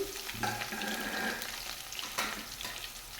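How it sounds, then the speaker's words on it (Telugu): Curry leaves and dried red chillies, with onions, fry in hot oil for a millet pongal, giving a steady, close sizzle with brief louder crackles and stirring scrapes throughout. "కరివేపాకు, ఎండుమిర్చి వేసి వేగనివ్వాలి."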